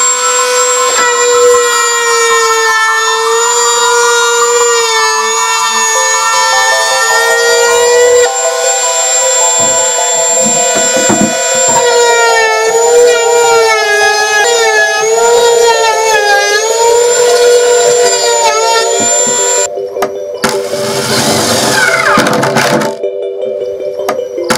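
A power router runs along the edge of a wooden sea chest, a loud, sustained high whine with wavering pitch as the bit cuts, ending with a burst of rough cutting noise.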